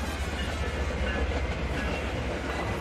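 Train ride in a magic-world video game, a steady loud rumble with rhythmic clickety-clack of wheels on rails, continuous and close throughout.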